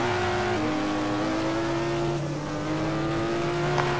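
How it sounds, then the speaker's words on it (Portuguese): Simulated cars drifting in the racing game rFactor, an RX-7 among them, with a steady sustained engine drone and a pitch shift partway through, loud and continuous without talk. "Vocês vão ver como que faz drift."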